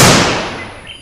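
A toy Beretta pistol fires a single sharp pop that fades into a brief decaying tail, loud and close with no talking.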